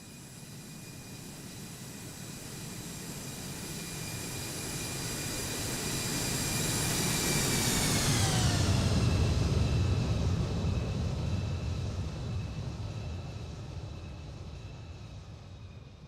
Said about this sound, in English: Let's see if I can get a flyover.